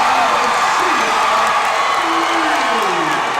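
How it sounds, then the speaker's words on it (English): Basketball crowd at a Harlingen South versus SA Madison high school game, a steady, dense roar of cheering and shouting that fills the gym throughout, with whoops rising above it and voices mixed in. "this crowd's starting to come alive"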